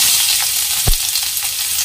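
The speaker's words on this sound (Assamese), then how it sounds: "দি দিছো ইয়াতে পিঁয়াজ" Onion and garlic frying in olive oil in a hot kadai: a steady, close sizzle with one brief thump partway through, and no voices.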